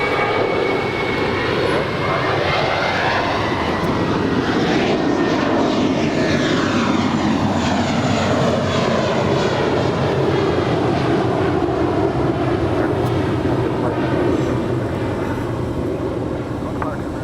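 Airliner taking off from runway 25 right at Los Angeles International Airport, a sustained loud jet engine roar that shifts in pitch as the aircraft passes, heard continuously from a distance.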